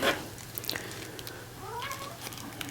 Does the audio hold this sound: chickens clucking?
no